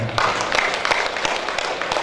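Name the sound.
audience applause at a ceremony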